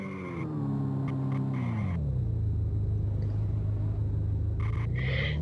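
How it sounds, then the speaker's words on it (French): Engines in dense car traffic from a driving simulation drone continuously, one engine's pitch dropping as it slows and then holding a steady low hum, with brief higher tones at the start and end. "Ça veut dire qu'il y a beaucoup plus de voitures dans la route maintenant"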